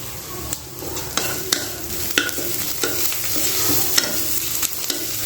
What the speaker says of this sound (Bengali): এখানে আমি ডিমের তরকারিটা করছি